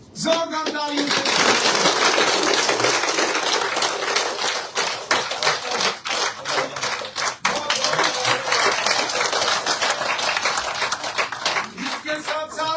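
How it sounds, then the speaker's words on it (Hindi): A crowd at a BJP office joining ceremony breaks into loud, continuous applause, many hands clapping close and dense throughout with a few sharper claps standing out. "जोरदार तालियों से"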